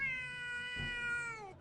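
A cat gives a single sustained, tonal meow, close and fairly quiet, with a slight rise and fall in pitch before it trails off.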